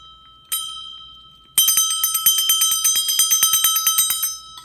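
A prayer bell rings during a novena, first two separate strikes and then a rapid, loud run of bright metallic dings that fade slowly, with no voices.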